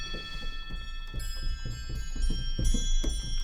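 Crotales from a percussion sample library, played as a series of bright metallic strikes with long ringing high tones that overlap and sustain, fairly close and clear with no talking.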